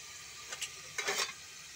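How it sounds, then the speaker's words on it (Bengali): A ladle stirs food frying in a pan, giving two short scraping sweeps over a steady sizzle, the second longer and louder than the first, close by with no talk. "হাতা দিয়ে একটু নাড়িয়ে নেব।"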